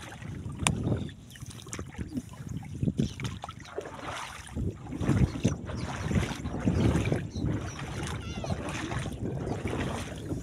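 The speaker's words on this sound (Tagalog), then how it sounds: "So may bangka na paparating." A fiberglass boat draws closer across Laguna Bay, its engine a low steady drone beneath wind buffeting the microphone and water noise, with faint voices here and there.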